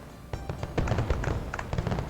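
Fireworks going off in the video game Glittermitten Grove, a rapid string of crackling bursts and popping explosions that grow louder after a brief opening stretch, packed closely together with no pauses.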